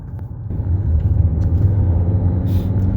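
Inside a car driving on a road in North Wales, a deep, steady interior rumble builds after a quieter opening and holds on, with a short hiss near the end.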